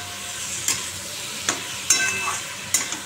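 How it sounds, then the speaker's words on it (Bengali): Potato and papaya curry with turmeric, salt and spices sizzles steadily in a pan, broken by several sharp clinks and scrapes from a spoon stirring against the metal, heard near and without talk. "এবার ভালো করে কষাচ্ছি, কষিয়ে তারপরে জল দিয়ে দেবো।"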